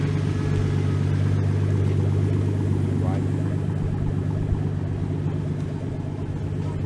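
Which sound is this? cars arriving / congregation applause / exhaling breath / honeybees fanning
cars arriving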